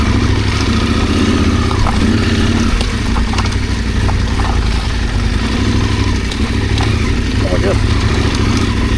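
A big adventure motorcycle's engine runs and revs steadily on a frozen charity riding challenge, loud and close, with wind noise and a voice talking over it.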